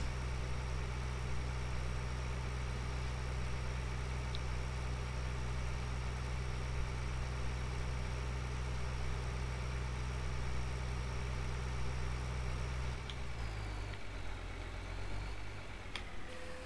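A tractor engine idles in Farming Simulator 2013, a steady low rumbling drone that holds evenly throughout, shifting slightly in pitch near the end, with no talking.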